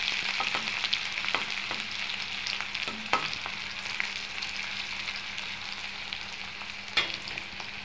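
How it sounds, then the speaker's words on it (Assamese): Chopped onion and green chilli fry in hot oil, giving a steady close sizzle with occasional stirring scrapes and pops. "এতিয়া অকণমান ধুনীয়াকৈ ভাজি লওঁ।"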